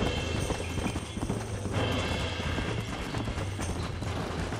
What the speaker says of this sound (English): Stop messing around and get back on your horse.